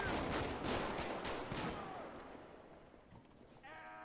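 Rapid bursts of video game gunfire crackle at the start, then fade to a quieter tail; faint and distant overall.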